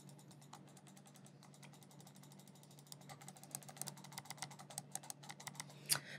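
A Razer Orochi V2 wireless gaming mouse's main switch is clicked repeatedly, quiet crisp clicks that quicken into a rapid series over faint background hum.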